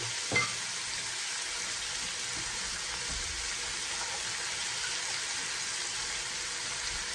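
Chopped celery, carrots and onions sauté in a pot for creamy chicken and dumplings. A steady, even sizzle runs the whole time, with a single brief knock near the start.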